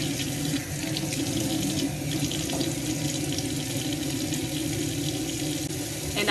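Running water pours steadily from a tap while hair is being washed, a continuous close splashing rush with no talking.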